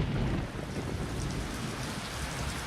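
Heavy monsoon rain pours down continuously in the Western Ghats with low rumbling thunder beneath it, a dense, steady roar with no voices.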